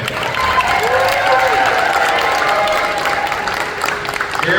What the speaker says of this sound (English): Cheer for Danny